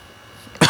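A single sharp, close cough bursts out at the very end after a near-silent moment.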